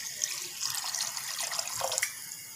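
Water poured into a pot of soaked lentils for restaurant-style dal, a faint splashing, gurgling stream with a few louder bursts and no talking.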